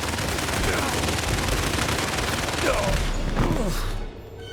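Dense, continuous gunfire rattles through a battle in Indiana Jones and the Great Circle, with a tank nearby, layered shots and booms staying loud before dropping off sharply near the end.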